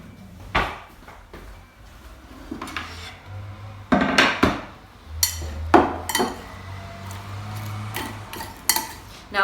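A salad gets tossed and stirred in a bowl with utensils, giving irregular clinks, scrapes and knocks of cutlery against the dish, close by, under a low background hum.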